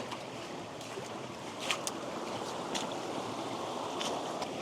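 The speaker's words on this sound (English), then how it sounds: "there is a slipstream where the water just rushes through" Spring floodwater rushes through a narrow slipstream over bare bedrock in a gold-prospecting creek, a continuous close, full wash of churning water with a few brighter splashy bursts.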